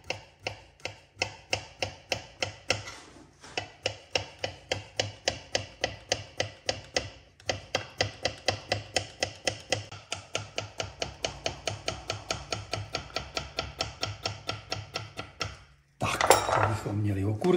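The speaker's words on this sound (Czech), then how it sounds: "No a dal si nakrájím okurky. To na půlku, na poměrně slabé plátky." Cucumbers sliced fairly thin with a knife on a board, a long run of steady, evenly spaced chopping taps, close and crisp, with a brief pause midway and a rustle at the end.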